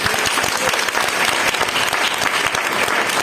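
A church congregation at a temple dedication festival claps together, a loud, dense burst of applause rolling steadily without pause and filling the space.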